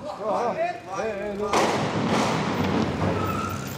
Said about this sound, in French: Mais là, des explosions